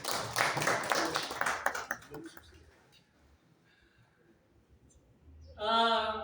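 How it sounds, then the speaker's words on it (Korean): An audience at a church gathering claps for a translator, a brief burst of dense clapping that fades after about two seconds into quiet, followed by a voice starting to speak. "박수 한번 주세요."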